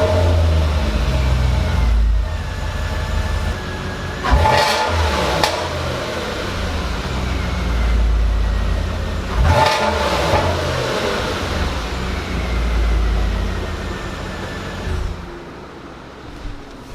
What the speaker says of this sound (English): And now for a start up on the Volvo.